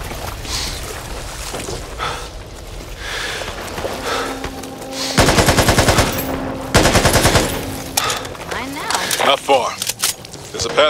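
Rapid automatic gunfire in the zombie shooter game Back 4 Blood, bursts of loud sustained shots mixed with game sounds and voices talking over the action.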